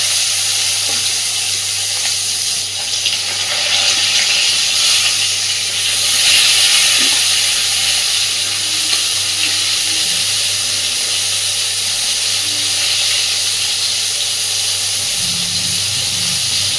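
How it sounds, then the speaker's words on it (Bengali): Salted, turmeric-coated brinjal pieces frying in hot oil in a wok, a steady close sizzle and hiss with a low hum underneath, no talk. "এইবার লবণ হলুদ মাখিয়ে রাখা বেগুনটাকে আগে একটু ভেজে তুলে নেব।"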